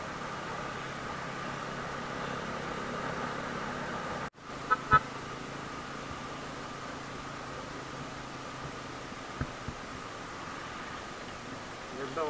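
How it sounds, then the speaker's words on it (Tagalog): Street traffic in Carmen, with a continuous low road rumble and a couple of short car horn toots in the middle, heard from a moving motorcycle amid faint background noise. "Traffic lang talaga dito sa Carmen."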